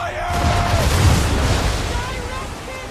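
Ship cannons fire in the Assassin's Creed 3 video game, a deep rumbling boom swelling and fading over sea and battle noise, with shouting voices on deck.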